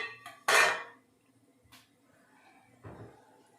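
A metal idli plate set into a cooker over boiling water, landing with one sharp clattering clank, followed by a couple of softer metallic knocks in an otherwise quiet kitchen.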